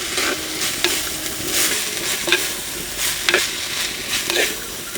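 Chopped onions fry in a pan for a gongura egg curry, giving a steady, close sizzle broken by regular scrapes and clinks as they are stirred, with no talking.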